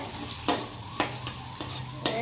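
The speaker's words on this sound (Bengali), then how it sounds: "কুমড়া আর আলু ভাজা হচ্ছে" Pumpkin and potato pieces frying in a pan while a spatula stirs them, five sharp scraping strokes against a low, steady sizzle, close and with no talk.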